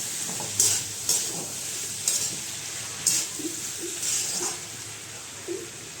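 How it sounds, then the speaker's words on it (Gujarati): Tomatoes stirred into a simmering green moong curry in a home kitchen pan, soft steady sizzle and hiss with a few sharp scraping clinks of a spoon against the pan at irregular intervals. "હવે આપણે એમાં ટમેટા નાખી દઈશું અને ફેરવી દઈશું."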